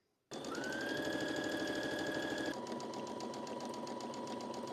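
A sewing machine runs steadily for several seconds with a fast, even mechanical whir and rattle as it stitches rows lined up with the presser foot edge on a dress. The tone shifts slightly partway through, and no voice is heard.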